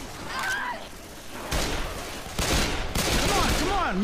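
Gunfire rings out during a Left 4 Dead 2 match, with bursts of rapid shots and several sharp reports in quick succession. Players' voices are mixed in among the shooting.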